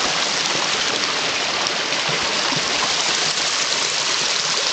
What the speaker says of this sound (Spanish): Y el arroyo.